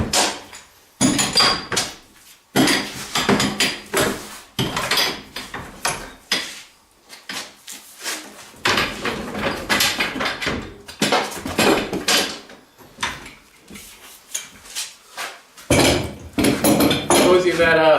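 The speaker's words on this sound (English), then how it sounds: "I gotta go and use some bigger clamps." Metal woodworking clamps handled from a large pile in a workshop, producing loud, close clanks, rattles and clinks in irregular bursts separated by short pauses, with someone talking in between.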